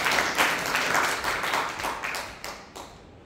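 An audience claps together in a brief round of applause, a dense burst of many hands close by that gradually thins out and fades after about three seconds.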